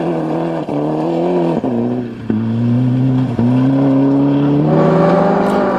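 An Audi rally car on a 1993 British Rally Championship stage, its engine loud and close, climbing through the revs in several pulls with short breaks at each gear change.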